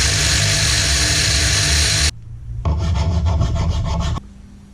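A hand saw cuts through a motorcycle wheel bushing being shortened to fit a Yamaha YBR wheel, loud close rasping strokes in two long runs separated by a brief pause.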